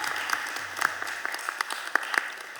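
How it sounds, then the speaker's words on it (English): Audience applause after thanks to an advocacy group at a school district budget hearing, a steady wash of many hands clapping with a few sharper claps standing out, at moderate volume. "can we give all the people from Lift Every Voice a round of applause?"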